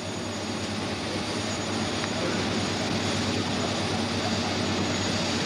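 Continuous steady roar of aircraft engines near Libreville airport in Gabon, a dense broadband drone holding at an even level throughout with no break.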